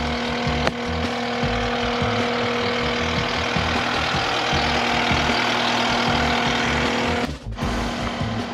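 A skid steer engine idling nearby, a loud, steady mechanical drone with a throbbing low rumble that holds throughout and briefly dips near the end.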